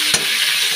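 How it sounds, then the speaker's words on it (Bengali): Cauliflower and potato frying in oil in a large wok (kadai), giving a loud, steady close sizzle with one brief stirring clatter near the start. "তো কপিটা এখন ভাজা হয়ে গেলে তারপরে মশলা অ্যাড করবো।"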